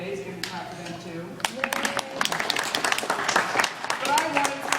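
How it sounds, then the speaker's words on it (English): Applause at a school assembly, with scattered claps growing into denser clapping over a few seconds while voices talk underneath. "giving clap for them too"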